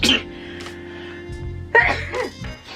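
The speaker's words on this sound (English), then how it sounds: "just been sneezing" A sharp sneeze bursts out at the start, with another abrupt nasal burst in the middle, close and loud against a quiet background.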